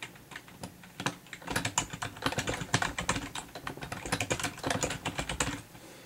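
Rapid computer mouse or keyboard clicks at a desk during a hockey card case break, used to hit a team randomizer. The close, crisp clicks come in quick irregular bursts for several seconds with no talking.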